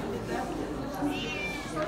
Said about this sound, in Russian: это у нас кошка, которой можно делать все, что угодно